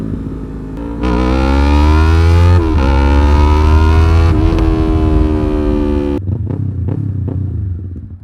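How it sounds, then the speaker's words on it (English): A highly modified Yamaha R3 motorcycle engine revs loud and close, its tone climbing and dipping through several sustained pulls before dropping off sharply to a rougher, quieter idle near the end. "Oh, what a fun little bike."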